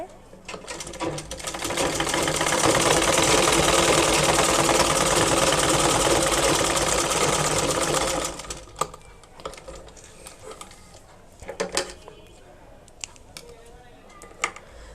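A sewing machine stitching a khimar hijab runs in one steady, loud whirring burst for several seconds, then stops, leaving faint clicks and fabric handling.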